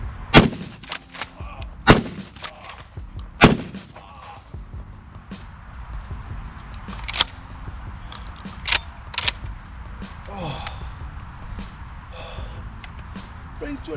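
FQ12 Bobcat short-barreled lever-action shotgun firing at a range, several loud, sharp blasts spaced a second or more apart, with lighter mechanical clicks and someone talking between shots.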